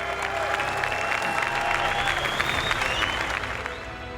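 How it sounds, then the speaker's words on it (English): Crowd applause at the 24 Hours of Le Mans 2019 for the car numbered 7, steady dense clapping with some cheering and crowd noise, continuous and fairly loud throughout. "Je veux demander un applause pour la voiture 7 parce qu'il mérite de gagner la course."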